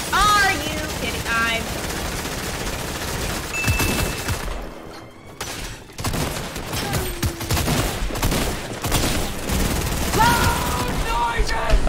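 Rapid gunfire bursts and explosions from the video game Fortnite crackle continuously, loud and dense, with a short lull midway before the shooting resumes; game sound effects and faint voices mix in.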